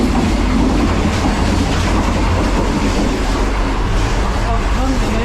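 Loud, steady rumble and rattle inside a moving Green Line passenger train in Lahore, with continuous wheel and carriage noise and voices talking beneath it.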